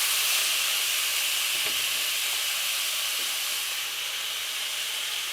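Garlic sizzling in a pot of hot oil for a tomato soup, a steady bright hiss that stays loud and continuous throughout, with a couple of faint knocks.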